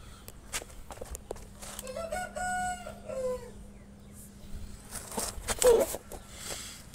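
An Aseel rooster with a swollen, reddened foot crows once in a long, wavering call, then clucks softly, with scattered clicks and shuffling footsteps around it at close range.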